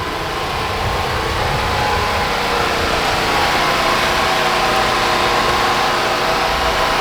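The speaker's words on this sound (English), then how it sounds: "We have the generator right now." A generator runs steadily at a house under renovation, a constant droning engine hum with broadband noise, close and unchanging throughout.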